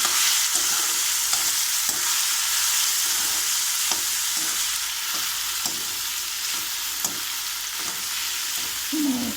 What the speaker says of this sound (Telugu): బాగా కలిపేసుకుందాము